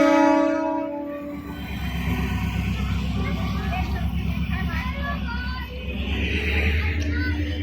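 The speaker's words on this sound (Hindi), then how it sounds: "ये है जनरल ट्रेन, जनरल डिब्बों वाली ट्रेन, इतनी सुंदर।" Indian Railways general-class passenger train running, with steady low rumble and rhythmic wheel clatter throughout, a horn-like tone at the start and a murmur of passenger chatter mixed in.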